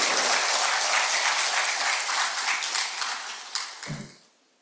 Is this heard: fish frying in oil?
no